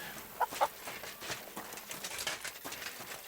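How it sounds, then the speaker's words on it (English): Chickens clucking in a medieval village in Kingdom Come Deliverance 2, a couple of sharp clucks near the start followed by a steady run of softer pecking clucks and farmyard bustle. "Chickens, more chickens."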